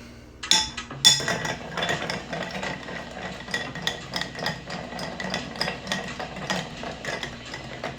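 Spoon stirring ice in a glass or pot, a quick run of bright clinks and taps that keeps up a steady irregular rhythm, close and fairly loud, with no talking.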